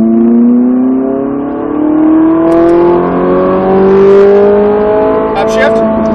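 A Ferrari 458 accelerates on a race track, its engine note climbing loud and close through rising revs with a slight dip mid-way. An instructor's voice speaks over the engine.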